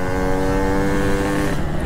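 A Yamaha RX King motorcycle engine drones steadily while being ridden, a loud, close, even humming tone at constant revs that eases slightly near the end, with no speech.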